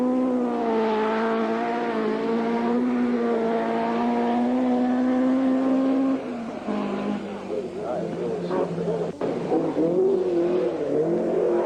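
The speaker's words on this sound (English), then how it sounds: "Russell Brooks was by now getting used to his new car in his first official full works drive for Ford" A Ford rally car in the 1978 rally drives hard, its engine note holding a strong rising drone before dropping and revving again through gear changes, loud and close, with commentary heard alongside.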